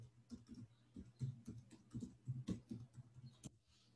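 Soft, irregular clicks of fingers typing on a computer keyboard, quiet and close, in a short uneven burst without speech.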